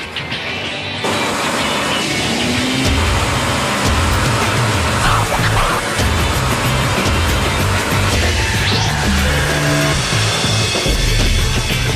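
A Ford Mustang engine runs on a rolling road test rig in a factory, a loud, continuous broadband roar that begins after a brief quieter moment and carries on steadily throughout.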